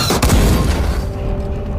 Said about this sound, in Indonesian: tanknya dihantam tembakan belasan Jaeger